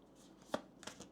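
Oracle cards riffle and slap briefly in two quick soft bursts, close by and quiet, with no talking.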